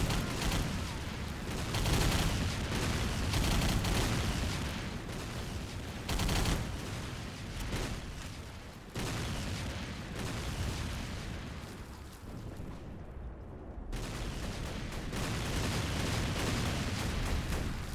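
Sustained automatic machine gun fire in a shooting video game mission, dense continuous bursts with booming impacts and explosions, loud and close throughout with a couple of brief gaps.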